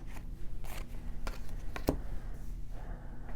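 Tarot cards are shuffled in a few quick, soft riffling and slapping bursts with a sharp snap near the middle, close by and quiet, with no talking.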